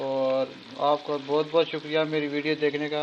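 Palak gosht sizzles in a pan as leftover water cooks off, a soft steady frying hiss running beneath someone speaking throughout.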